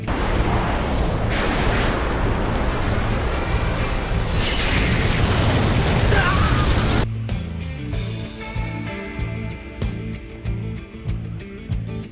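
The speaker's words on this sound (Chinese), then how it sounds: "这种能够造成周边村子动荡的爆炸" A huge, roaring explosion from the Naruto anime, Deidara's self-destruct, rumbles continuously for several seconds, then cuts to lower, rumbling aftershocks with dramatic background music.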